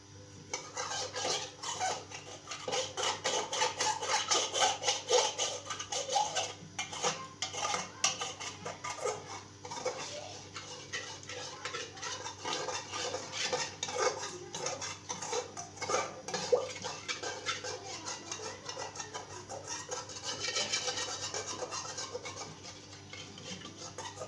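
Cutlery and dishes clatter and scrape in a home kitchen during morning tea-making, a continuous soft jumble of metallic clinks, rubbing and stirring, faint but steady over a low background hum.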